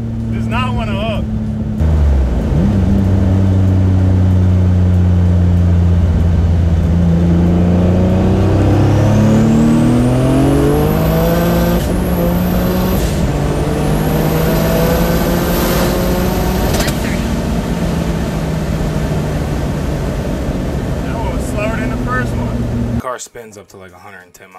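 A turbocharged Nissan G35 engine revs hard on a dyno, climbing through a long continuous pull with rising pitch and turbo whine and a loud, close roar, then cutting off abruptly near the end.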